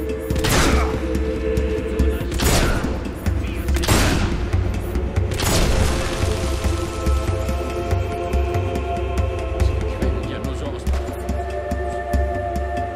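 Explosions in the video game Fable 2 go off as a burst of several heavy booms in the first seconds, then fade into a lingering low rumble and ringing tones.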